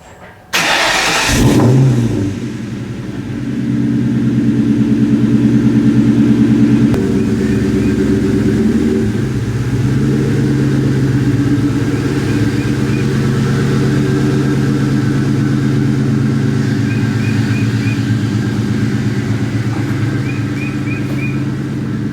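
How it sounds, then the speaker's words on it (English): A New Edge Ford Mustang starts with a brief cranking burst, then its engine settles into a loud, steady, rumbling idle and low running drone that continues up close with faint chimes. "I'm gonna go ahead and hop in the car and I guess take it on the road."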